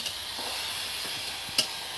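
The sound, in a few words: water added to frying vegetable mixture in pan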